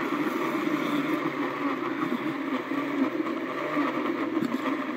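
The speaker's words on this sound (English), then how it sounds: "Put the cover back on. And I'll blend that." A blender whirs continuously at a steady pitch, loud and close, as it mixes a drink.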